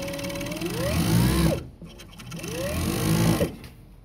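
A Juki MF-7923 top-and-bottom cover stitch sewing machine runs in two loud, close bursts of fast mechanical whirring, each winding up and stopping abruptly, with no talking.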